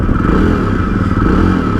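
Exhaust of a Jawa Perak BS6 bobber motorcycle while riding, a loud, steady, throbbing engine note with a rough, crackly edge that holds at an even speed, close and dominant.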